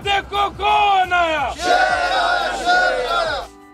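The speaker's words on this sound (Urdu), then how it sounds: "جو ووٹ کو عزت دو کی نعرے بازی کر رہے تھے" Crowd of PML-N party workers at the Peshawar motorway chanting political slogans in unison, loud and close, with rhythmic rising-and-falling shouted calls repeated several times, then stopping near the end.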